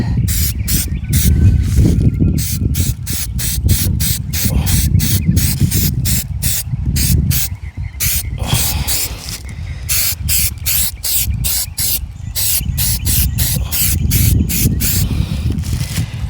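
Short, sharp hissing bursts of an aerosol spray coating hit rubber muck boots outdoors in strong wind, repeated rapidly in a stuttering rhythm over a constant windy rumble.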